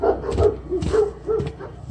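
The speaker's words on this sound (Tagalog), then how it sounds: "At tumatahol yung aso." A dog barks several times in quick, uneven succession, fairly close and loud, with short gaps between the barks.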